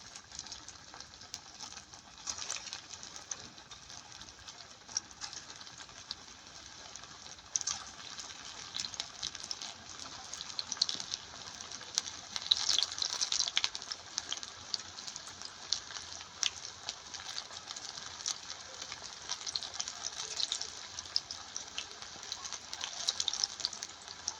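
Small rice pakoras made from leftover rice fry in hot oil with a continuous, bright, bubbling sizzle that swells and crackles steadily throughout.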